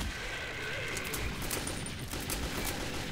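Rapid, continuous gunfire in Metro 2033, a first-person shooter set in the Moscow metro tunnels, a dense rattling fusillade that fills the whole stretch without pause.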